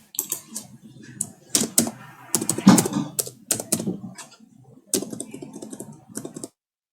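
Rapid, uneven keystrokes on a computer keyboard while HTML form code is entered, clicking in bursts with short pauses, close and fairly loud, with no talking.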